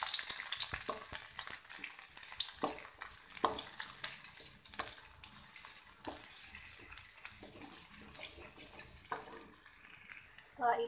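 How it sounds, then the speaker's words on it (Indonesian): Onions sauté in a hot pan with oil for a bread pizza filling, giving a steady close sizzle with scattered stirring scrapes and clicks throughout. "Pertama kita tumis bawangnya dulu sampai harum ya."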